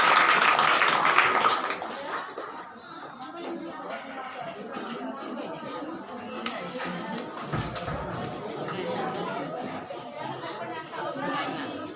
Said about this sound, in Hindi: इसलिए आप लोग तेज ताली के साथ परमेश्वर को धन्यवाद दीजिए